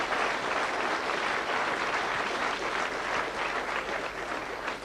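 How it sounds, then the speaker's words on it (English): A club audience applauds the Grumbleweeds with a steady wash of clapping that holds evenly throughout, moderately distant and without talk. "Give them a nice round of applause"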